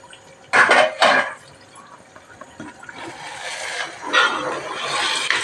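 A metal lid is lifted off a pot of cooking mutton biryani, giving two sharp clanks close together near the start, followed by softer steamy hiss and rustle.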